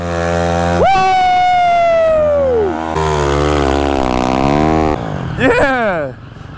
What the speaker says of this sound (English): these guys just hop on other people's bikes and burn off their tires